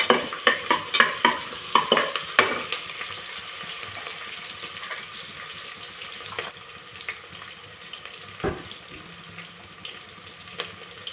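Cashews frying in a pan for vangi bath, with a steady sizzle under sharp spoon-and-pan scraping clatter at the start, then a quieter continuous frying hiss with occasional clinks.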